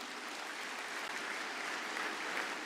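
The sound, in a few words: audience applause in conference hall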